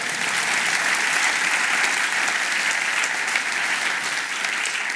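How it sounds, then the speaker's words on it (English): Sustained audience applause at the Centre for Entrepreneurs Annual Lecture fills the room, a steady dense wash of many clapping hands, loud and even throughout without pause. "the second round of applause can be a very quick one"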